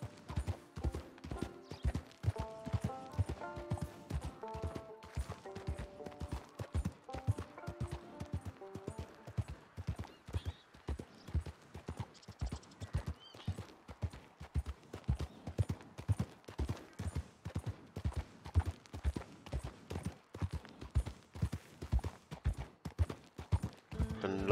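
Horse hooves clip-clopping in the video game Red Dead Redemption 2 while riding, a fast, steady, rhythmic gallop heard up close, with game music and faint ambient sounds underneath.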